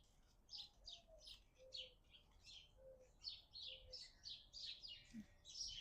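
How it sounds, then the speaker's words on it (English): Two birds chirp rapidly back and forth as if fighting, a busy run of sharp, high tweets across the whole stretch, fairly close and alone with no talk. "Are those like two birds fighting?"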